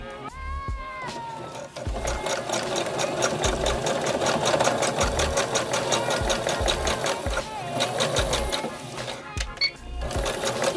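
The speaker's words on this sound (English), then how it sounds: "I'm just sewing this at the top so it doesn't get caught on anything." Domestic sewing machine stitching along the top edge of a DIY Vault Dweller cosplay costume, running in a steady rapid needle rhythm for most of the stretch with short pauses and brief low thumps.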